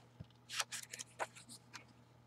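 Paper being snipped with scissors while making an art journal page, a quick run of crisp, close cuts in short bursts over about two seconds, fairly quiet, with no talking.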